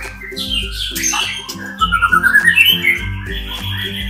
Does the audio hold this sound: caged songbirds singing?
yes